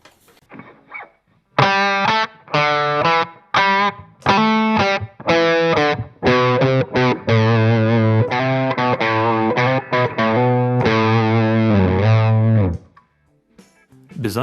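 An electric guitar runs through a Boss GE7 equalizer pedal with the bass cut and the treble boosted. It plays a loud, distorted riff of choppy stabs and sustained notes with a bright, cutting tone.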